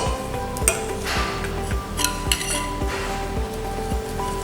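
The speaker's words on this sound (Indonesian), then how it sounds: "sambil kita aduk ya" Egg yolk is stirred into a melted milk-compound mixture for a layered Surabaya pudding, giving a rhythmic, repeated scrape of a utensil against the bowl, close and steady, with no talking.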